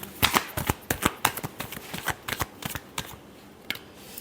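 Tarot cards are shuffled by hand in a quick run of crisp riffling snaps and slaps, about a dozen sharp bursts spread unevenly over several seconds, close and fairly quiet with no talking.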